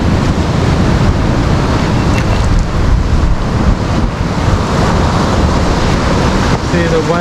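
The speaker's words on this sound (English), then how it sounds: "the waves are coming in here on the right" Loud, steady surf roars along the West Coast shore near a reef and rocks, mixed with heavy wind buffeting the microphone. The roar stays continuous without clearly separate breaks.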